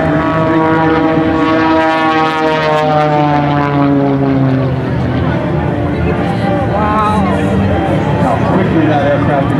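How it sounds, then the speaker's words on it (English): An MX-2 aerobatic airplane's propeller engine roars loudly and close at an airshow, its droning pitch rising and sweeping as it accelerates through maneuvers, with an announcer talking over it. "That aircraft accelerates."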